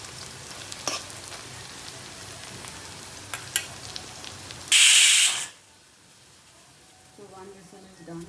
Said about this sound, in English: Now you can see the onions are beginning to brown.